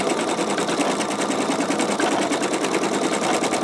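An embroidery machine stitches a wing design onto a T-shirt, a fast, steady mechanical whirring and rattle of needle strokes running continuously, close and alone.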